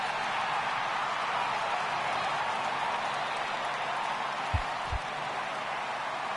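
Home crowd in a PS4 baseball video game gives a steady, dense roar of cheering that holds at an even level throughout, with a couple of soft low thumps near the end.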